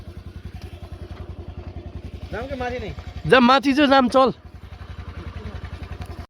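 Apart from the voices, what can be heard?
scooter engine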